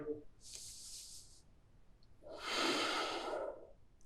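Slow yoga breathing, two long airy breaths, an inhale then a louder exhale, close and quiet with no talk.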